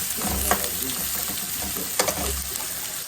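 Onion stir-fried with sinagrit fish in a pan, a loud, close, continuous sizzle with a couple of sharper scrapes as the pieces are turned.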